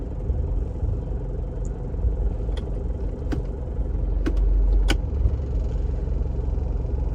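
A 2001 Isuzu Panther LS Turbo with automatic transmission idles with a steady low rumble as it is shifted into reverse, a few brief mechanical clicks and a slight swell in engine tone marking the gear change.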